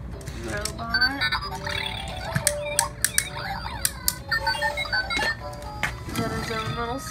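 Toy cell phone with electronic beeps and bright melodic tones at a one-year-old's wild-one birthday party, sounding in repeated short bursts close by amid household chatter and clicks.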